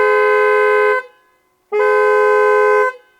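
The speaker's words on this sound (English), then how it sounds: "This car has a very distinctive horn." Lucid Air electric car sounding its two-tone horn, two loud, sustained blasts of about a second each separated by a short gap, close and clear with nothing else heard.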